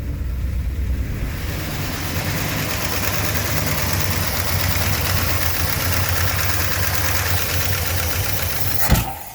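A 1966 Chrysler New Yorker parked for 18 years fires up with its timing slightly out, giving a loud, rough, continuous engine roar close by that ends abruptly, with no voices over it.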